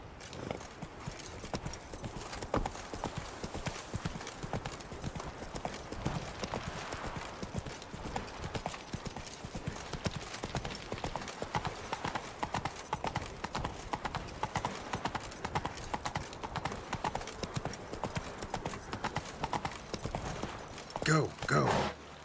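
Hooves of Roach, Geralt's horse in The Witcher 3: Wild Hunt, clip-clop in a steady rapid gallop rhythm throughout, fairly close, with a brief snort or whinny near the end.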